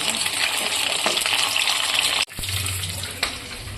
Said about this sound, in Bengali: চিকেনগুলো পকোড়ার মতন করে ভাজা হচ্ছে